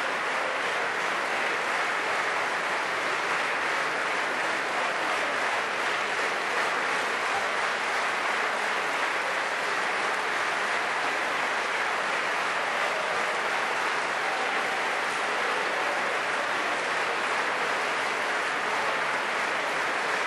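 Steady applause from the Forza Italia benches in the Italian parliament during a presidential election session, a broad, continuous hall-filling clatter of many hands that holds evenly for about twenty seconds without letting up.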